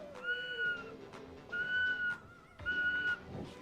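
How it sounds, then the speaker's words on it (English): A handmade water-style whistle blown at low pressure, giving three steady, fairly high whistled tones of about a second each, separated by short gaps, soft and close with faint background noise. "if you can make your whistle whistle at low pressure, you know it's going to be good for your water whistles later on."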